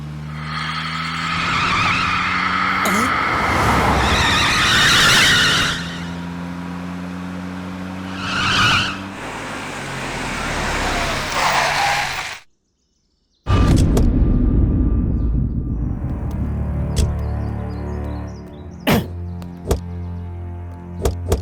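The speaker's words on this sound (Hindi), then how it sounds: "टायर पंचर हो गया।" A car with a punctured tire skids and squeals with a loud, sustained engine roar, then cuts briefly to silence before a rough rumbling stop with a few knocks.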